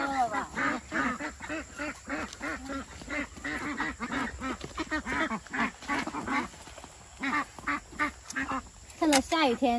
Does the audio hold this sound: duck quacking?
yes